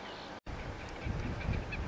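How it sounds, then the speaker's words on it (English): Nasal duck calls, including a gadwall and whistling ducks, rise above steady outdoor background noise on the East Texas coast, a few short honking notes with a low rumble building toward the end. "There's a gadwall."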